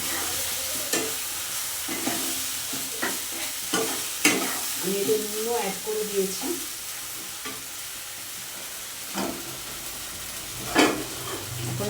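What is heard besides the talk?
spice paste frying in oil in a pan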